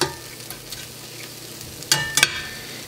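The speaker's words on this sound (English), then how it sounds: "we are going to dump that into our veggies. Kind of give it a little stir" Squid is stirred into a pan of frying vegetables, with a soft continuous sizzle under a few scraping stirs and two sharper clacks of a utensil against the pan near the end.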